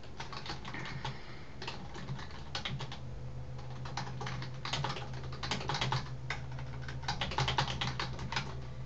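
Steady typing on a computer keyboard, a continuous run of quick, close key clicks with brief pauses, keys entered into a question dialog box.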